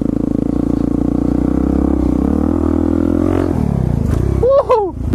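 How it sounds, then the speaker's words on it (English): Supermoto motorcycle engine droning steadily close up while riding through an apartment complex, pitch shifting as it approaches a jump, then a brief rise and clatter near the end as it lands. "I'm gonna hit the jump."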